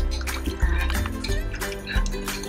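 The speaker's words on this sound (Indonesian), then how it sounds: "Setelah itu kita tambahkan kuah santannya." Coconut milk broth pours steadily into a pot of meat curry, a continuous close liquid stream with splashing and small knocks of kitchenware, alone without talk.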